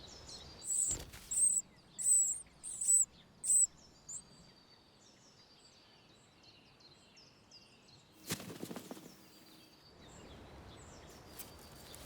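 Great tit chicks in a nest box call for food in a run of five high, shrill begging calls in quick rhythm. A fainter thin call lingers after them, followed by rustling bumps and a low, soft background hiss.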